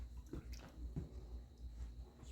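Water sloshes and swirls in a gold pan of paydirt holding fine flower gold, soft close splashing and gurgling in short irregular pulses, fairly quiet.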